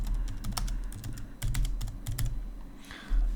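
A channel name being typed into a menu on a computer keyboard, with a rapid run of crisp, close keystrokes at an uneven pace and no voices.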